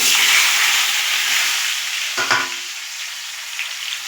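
Boiled potatoes drop into a hot frying pan for a jackfruit-seed, potato and egg curry, with a steady loud sizzle of oil and a brief burst of clatter and spattering midway, then frying continuing.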